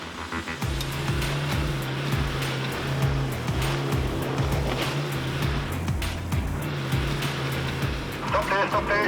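A 4WD engine revs hard as the vehicle climbs over rocks on a bush track. The loud engine drone rises and falls with the throttle, with scraping and crunching under the wheels and voices in the background.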